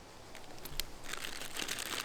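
Close crinkling of thin plastic, crackling in short bursts that grow busier and more continuous toward the end.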